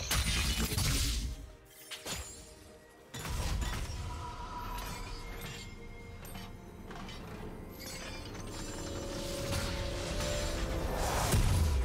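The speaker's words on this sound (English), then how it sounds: "team's turret has been destroyed" Crashing, shattering impacts and mechanical clatter as a turret is destroyed in League of Legends, bursts of debris and whooshes amid busy game effects, loud at first then settling into a quieter mix.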